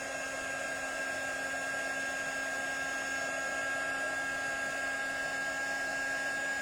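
A heat tool melts embossing powder on a stamped card, producing a steady close whirring blower hum with a high electric whine, unbroken and even throughout, with no talking.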